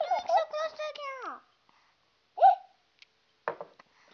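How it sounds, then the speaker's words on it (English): A Hatchimal electronic toy gives high chirpy hiccup sounds, a warbling burst at first, then a few short separate hiccups with quiet gaps between them, close and fairly loud. "He has the hiccups."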